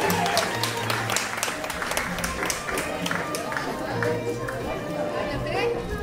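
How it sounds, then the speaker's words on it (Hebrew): Audience at a hafla dance night applauding for Dalilla, a dense steady wash of clapping and crowd chatter that keeps up throughout, with a voice talking over it. "חברים, מחיאות כפיים לדלילה"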